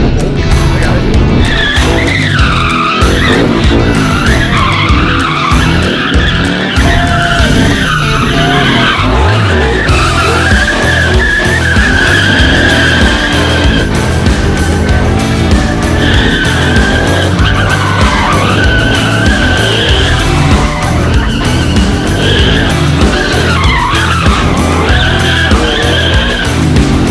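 Replica Hoonicorn car skidding hard with loud, continuous tire squeal and revving engine throughout, a sustained screech that rises and falls over nearly half a minute.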